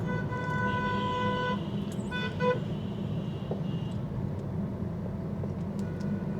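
A car horn sounds in a long steady blast and then a couple of shorter toots from a car driving through traffic, over a constant road and engine rumble with no talk.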